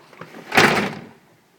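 A door pushed open against deep snow during the 2011 Chicago blizzard gives one close, scraping thud that swells and fades over about a second.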